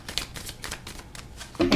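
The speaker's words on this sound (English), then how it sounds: "I'll cut the deck right in half." A deck of tarot cards being cut and handled, a short run of soft, close card riffles and slaps, with a brief voice at the end.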